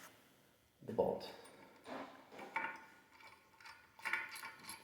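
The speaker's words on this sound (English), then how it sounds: "And then we'll tighten that down completely on both sides" Bolts with metal and rubber washers are tightened onto a toilet flange, giving several short bursts of metallic ratcheting and clicking separated by quiet pauses, close and fairly faint.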